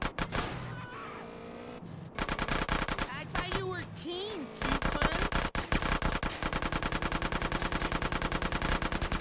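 Rapid automatic gunfire from GTA San Andreas, with dense bursts after a sparser opening that are loud, close and nearly continuous to the end, mixed with game music and effects.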